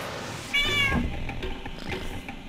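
A cat in the video game Jazzpunk gives one short, clear meow partway through, followed by softer rustling and faint low purring sounds, with no talking.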